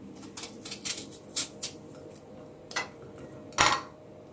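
A knife cuts peeled raw green mangoes into pieces on a board, giving a series of sharp, irregular clicks and taps, close and fairly quiet, with no talk.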